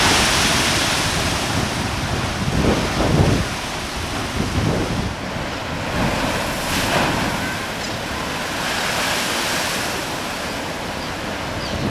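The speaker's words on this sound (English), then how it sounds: "you can feel the waves pounding on the rocks below you" Ocean waves pounding on rocks below a coastal track in New Zealand: a continuous loud roar of surf with heavier crashing surges, dominating the scene with no speech.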